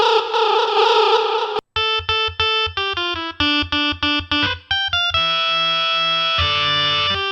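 A synthesizer runs through FL Studio's Hardcore guitar effects plugin: a sustained distorted tone, then a string of choppy staccato notes at shifting pitches, ending in long held buzzy chords, loud and alone.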